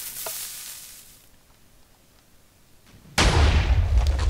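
A TNT cannon fires in Minecraft: a faint crackle first, then a sudden loud blast at about three seconds that rolls on as a sustained roar, no talk.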